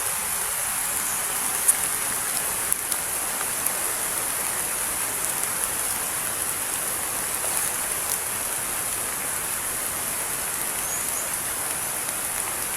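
Heavy rain pours down in a steady, dense hiss close by, unbroken for the whole stretch, with faint scattered drips and taps but no talking.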